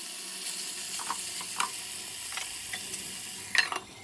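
Spices with salt and turmeric being stir-fried in a pan at home, a steady soft sizzle with scattered light scraping stirs and a brief louder clatter near the end.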